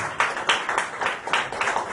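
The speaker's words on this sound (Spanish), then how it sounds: "Démosle un aplauso al Señor, hermano, en esta hora." Church congregation claps together during a Spanish-language worship service, a rhythmic, fairly loud burst of applause with periodic swells and no one speaking over it.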